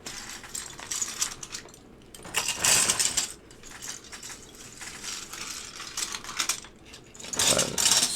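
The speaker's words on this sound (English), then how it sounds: "I'm going to put the rest of these keycaps away because we're not using these." Loose plastic keycaps from a Geon Works Frog Mini keyboard build are scooped up and put away. Irregular bursts of small clattering clicks and rattles sound close by, with louder handfuls near the start and end.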